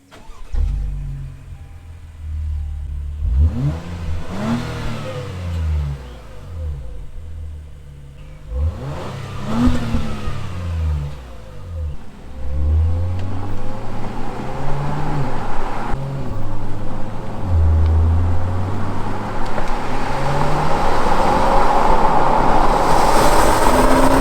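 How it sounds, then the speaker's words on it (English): An Acura MDX Type S with an active exhaust idles, then revs in a few rising bursts before accelerating away, its throaty exhaust growing louder and steadier. "the car does sound different in sport mode versus sport plus"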